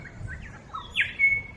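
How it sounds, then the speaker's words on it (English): Birds by a creek in Tasmania give a short, thin rising call followed by a clear whistled note, fairly close and faint over soft outdoor ambience and trickling water. "Oh, the birds."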